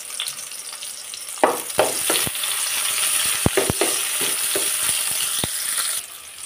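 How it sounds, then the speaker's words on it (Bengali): Chopped onions frying in a little oil, a steady close sizzle punctuated by a series of sharp spatula scrapes and knocks against the pan before the sound eases off, no speech. "আর সাথে দিয়ে দিলাম পেঁয়াজ কুচি। এই পেঁয়াজ কুচিটা আমি একটু ভাজি ভাজি করে নিব।"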